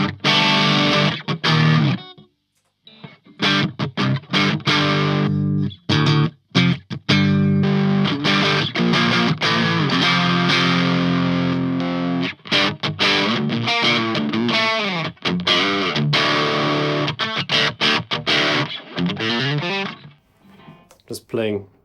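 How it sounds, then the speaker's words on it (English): Electric guitar played loud through the Stupor distortion on a Line 6 HX Effects unit, dense saturated chords and riffs that stop and restart with brief gaps, close and sustained. "let's put a distortion somewhere."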